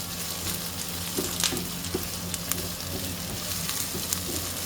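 Ginger and garlic sauté in a hot pan for creamy palak paneer, giving a steady close sizzle with a few soft clicks of stirring and no voices.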